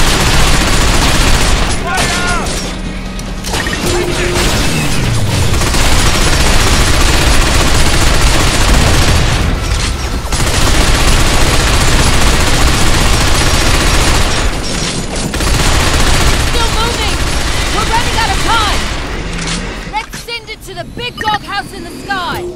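Dense video-game gunfire from Binary Domain, with rapid automatic bursts and overlapping shots that are loud and continuous, mixed with explosions and shouted combat voices.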